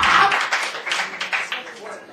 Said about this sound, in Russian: Еще раз сюда аплодисменты.